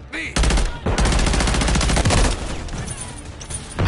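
Rapid automatic gunfire in Call of Duty rattles loud and close in dense, fast bursts, briefly pausing before continuing, then thinning toward the end.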